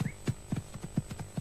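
Horse hooves clip-clop in a quick, regular rhythm of sharp, close knocks, around a dozen strikes in a row with nothing else over them.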